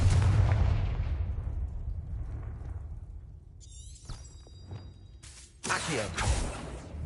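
Confringo fire curse explosion in Hogwarts Legacy: a heavy rumbling blast at the start decaying away, followed by sparkling magical chimes and further sharp bursts.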